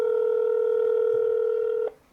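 A steady single-tone telephone ringback from a dialed call plays loud and unbroken for nearly two seconds, then cuts off abruptly, leaving faint line hiss.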